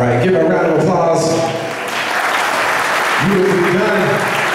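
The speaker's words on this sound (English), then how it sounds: "give a round of applause" Wedding reception guests applaud in a loud, continuous wash of clapping, with a voice talking over it at the start and again near the end.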